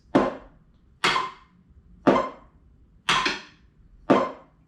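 Five evenly spaced sharp strikes of drumsticks on a snare practice pad, each hit noticeably different in loudness and attack, the strokes uneven between hands, close and alone.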